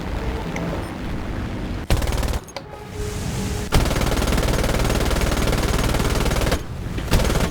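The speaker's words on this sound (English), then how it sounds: "I definitely just missed all those shots" Machine gun fire from a fighter plane in the flight game War Thunder: long sustained rattling bursts, loud and dense, broken by short pauses, with no talk over them.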